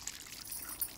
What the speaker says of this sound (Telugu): ఎండిపోయిన చెట్లకి నీళ్ళు పోస్తున్నావు?